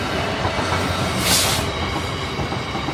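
Loud rumble of a train rolling past close by at a railway level crossing, wheels clattering over the rails with a brief metallic squeal, no voices.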